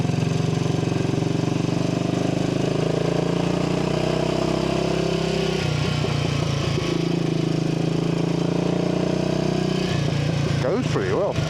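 A Royal Enfield motorcycle engine, freshly running after a carburettor rebuild, keeps up a steady loud rumble with a change in tone partway through, as though shifting or revving, and a few brief sharper bursts near the end.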